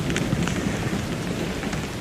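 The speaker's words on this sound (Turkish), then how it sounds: "Yağmur iyi başladı." Steady rain falls at a seaside campsite in a Marmaris cove, a dense continuous patter with low rumbling underneath and occasional brighter drop taps, no voices.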